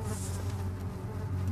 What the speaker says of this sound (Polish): No, gonią mnie muchy.